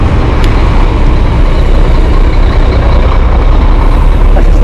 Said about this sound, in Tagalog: Wala na, maraming trucks.